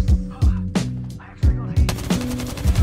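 Gunfire in the video game Apex Legends: several loud, close bursts of rapid shots in uneven clusters, with short pauses in between and a few sharp hits echoing between them.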